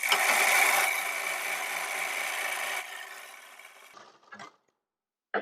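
A sewing machine stitches the bottom fold of a blouse in one continuous close run of buzzing, which slows and fades before halting into silence, with a brief clatter at the end.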